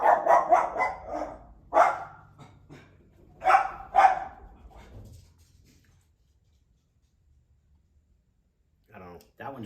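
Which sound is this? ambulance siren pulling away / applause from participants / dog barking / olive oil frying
dog barking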